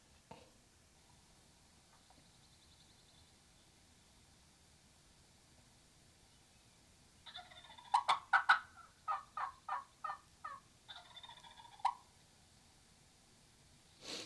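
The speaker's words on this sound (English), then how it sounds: "He's gobbling" Wild turkey gobbler gobbling from the roost, a rattling burst of rapid notes repeated in two or three runs, moderately near over quiet woodland background.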